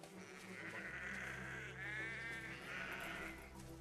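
Sheep in a video game bleat in a steady chorus of wavering cries over a constant low ambient hum, with one louder bleat rising near the middle, and no talking.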